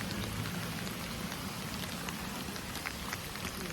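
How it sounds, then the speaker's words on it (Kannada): Heavy rain pours down steadily and loudly on an outdoor street scene, a dense continuous hiss with scattered close drops, heard alone without talk. "ಮಳೆ ಮತ್ತೆ ಜೋರಾಯಿತು."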